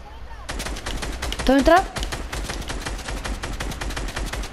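Rapid automatic gunfire from a video game crackles in dense, steady bursts throughout, with a voice briefly speaking over the shooting.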